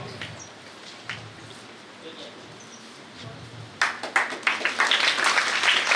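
At an award ceremony, a quiet hall with a voice speaking gives way to a burst of audience applause that swells and continues loudly to the end.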